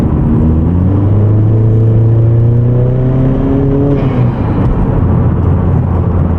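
A Honda Accord with an aftermarket downpipe cruises, its exhaust giving a steady low drone inside the cabin, the pitch climbing and falling gently as the engine works, loud and continuous with no talk.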